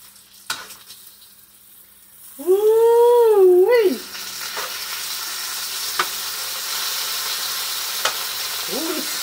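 Bacon frying in a pan, a quiet steady sizzle running throughout with a few sharp clicks and pops, interrupted briefly by a louder rising and falling squeal.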